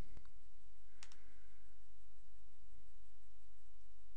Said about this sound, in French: puis clique sur le bouton trier.